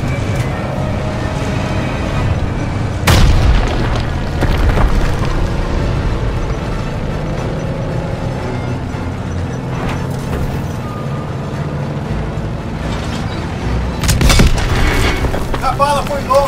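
Heavy tank cannon booms and explosions in Call of Duty: WWII over a steady rumbling engine din, with sharp blasts near the start and again toward the end.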